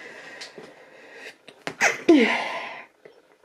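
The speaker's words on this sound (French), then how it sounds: "je vais éternuer parce qu'il y a du pollen partout" A single loud sneeze, with a sharp intake of breath before the forceful burst, close to the listener in a quiet setting.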